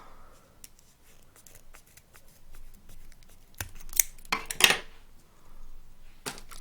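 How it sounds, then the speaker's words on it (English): Scissors trimming the bottom edge of a folded grosgrain ribbon petal for a kanzashi flower: a few quick, close, crisp snips bunched near the middle, with soft handling rustles before and after. "trim the bottom of the petal"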